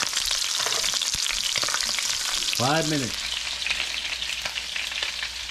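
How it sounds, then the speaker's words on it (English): Wild chicken and bacon sizzle loudly and continuously in a hot pan, close up, with someone briefly speaking partway through. "Sizzling."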